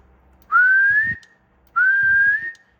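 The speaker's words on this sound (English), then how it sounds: "you're not going to be whistling into this mic all the time" Two long, steady whistled notes into a radio microphone on a Radioddity QT80 10-meter radio, each about half a second to a second long, loud and close with a short pause between them.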